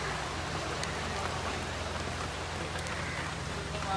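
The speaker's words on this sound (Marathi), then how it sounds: "गेले चार दिवस पाऊस पडतोय" Rain pouring down over a market area during a spell of monsoon weather, a steady, even hiss of falling water with no breaks, moderately loud and uniform.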